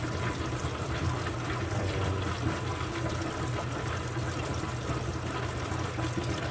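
A tumbled rock rinsed under running water, a constant broadband rush of a stream from a tap splashing steadily and close with no pauses.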